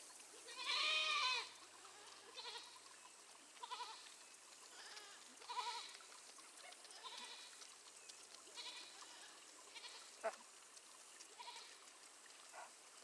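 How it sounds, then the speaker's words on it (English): Goats on a farm bleat several times, one loud call up front, then scattered fainter bleats from the herd at varying distances, with a soft trickle of water in the background. "That's all the goats."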